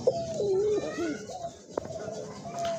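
Pigeons cooing at a pigeon farm, a close series of soft throaty coos and warbles over a busy background with brief clatter.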